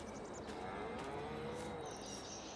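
Cattle lowing on a Farming Simulator 22 farm as the herd is let out to graze, a drawn-out moo rising and falling under a steady low ambient bed with faint insect and bird chirps.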